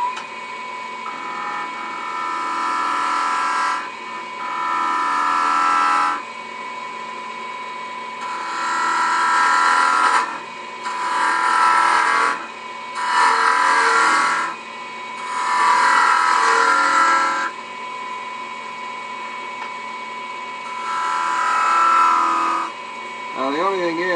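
A gouge cuts a face grain wood spindle turning on a lathe. Rough, hissing cutting passes come in bursts lasting a few seconds, and each burst drops back to the quieter, even hum of the spinning machine between cuts.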